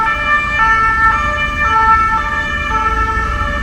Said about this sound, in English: And then you hear that familiar European siren sound.